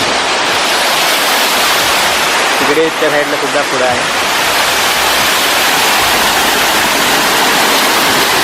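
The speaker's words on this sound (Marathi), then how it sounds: "खाली जाते बघा वरून पाणी येतं" Water pours down from above at a forest waterfall in a loud, constant roar that fills the whole stretch, while someone speaks briefly over it partway through.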